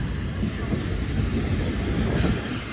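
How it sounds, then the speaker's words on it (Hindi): Awam Express passenger train pulling out of Bin Qasim railway station, with a steady, loud rumble of wheels and rolling carriages and a faint clickety-clack throughout. "2 मिनट रुकने के बाद निकल रही है बिन कासिम रेलवे स्टेशन से"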